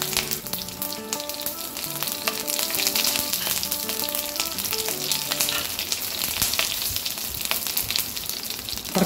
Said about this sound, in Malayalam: കടുക് നന്നായിട്ട് പൊട്ടി വരുമ്പോൾ പച്ചമുളക് ഇട്ട് കൊടുക്കുക.